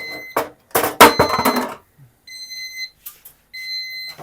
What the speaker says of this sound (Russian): У нас пикалка тут немножечко работает.